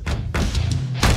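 A watermelon filled with layered jelly struck hard to crack it open, giving three dull, heavy thuds close by: one at the start, one shortly after and a final one near the end.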